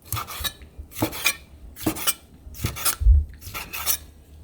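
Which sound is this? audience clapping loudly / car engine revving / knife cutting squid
knife cutting squid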